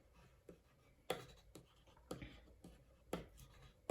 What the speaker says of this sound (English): So I'm going to draw the nest